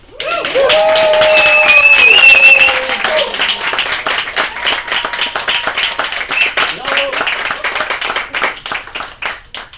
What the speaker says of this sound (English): Guys, round of applause for them.